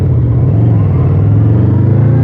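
A loud Honda VFR800X Crossrunner four-cylinder motorcycle engine drones close by, its strong low harmonics rising and holding as it accelerates steadily, with no voices over it.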